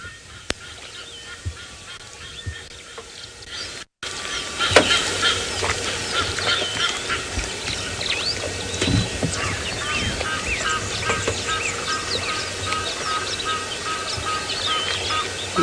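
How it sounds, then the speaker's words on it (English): Egyptian geese honk and call near water at sunrise on a safari drive, with repeated harsh honks over a constant outdoor background hiss, moderately distant, and a brief dropout early on. "Even Egyptian geese calling in the background"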